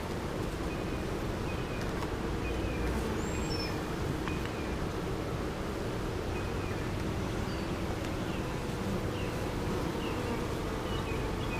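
A continuous loud buzz of honeybees fills the air during a hive inspection in spring swarm season, steady and close throughout, with faint birdsong in the background and no talk.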